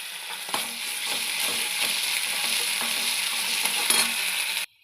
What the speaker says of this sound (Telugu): ఇప్పుడు ఇవి కూడా వేగినాయి కదా, జింజర్ గార్లిక్ పేస్ట్ వేగింది కదా